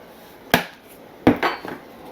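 A few sharp clinks of a utensil against a bowl while whole grain mustard and seasoning are stirred together, coming as one knock and then a short cluster of taps, with no talking.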